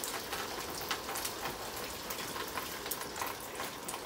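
Water and air rush out of a self watering system pipe in a steady, spattering hiss with uneven surges, close and continuous with no voices.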